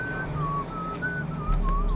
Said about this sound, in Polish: Kto tam, kurczę, sobie gwizda?